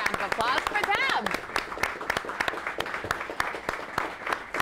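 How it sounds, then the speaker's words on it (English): A studio audience on a morning television show claps, starting as a busy burst of many hands and thinning to scattered individual claps, with a brief whoop or voice sound near the start. "Let's give a round of applause for them"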